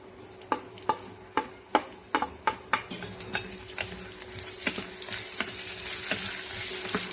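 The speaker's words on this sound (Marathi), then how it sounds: "आता हे कापलेलं बटाटे घालू त्याच्यात." Potatoes, onion and garlic fry in a pan for a methi-potato dish, with a run of sharp spatula scrapes and stirs at a steady pace over a constant sizzle that swells louder toward the end.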